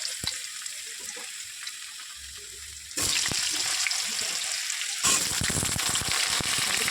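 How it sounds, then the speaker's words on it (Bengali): Potatoes fry in a pan with a steady broadband sizzle that grows louder in stages as they hit the hot oil, with occasional stirring clatter and no talk. "এবার আমি আলুটা দিয়ে দেবো, আলুটা একটু লাল লাল করে ভেজে ওর মধ্যে সব মশলা দিয়ে দেবো।"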